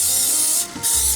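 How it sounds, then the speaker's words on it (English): Two short bursts of hissing aerosol cooking spray into a 9x13 casserole dish, separated by a brief pause, close and loud. "get a 9x13 casserole dish and spray it"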